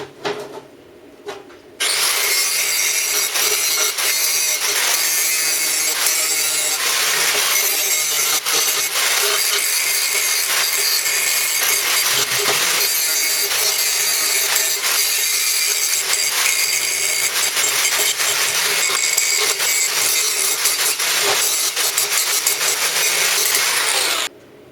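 A steel angle has its corners cut off with a power tool, giving a loud, continuous, harsh grinding rasp that runs steadily for over twenty seconds before stopping abruptly.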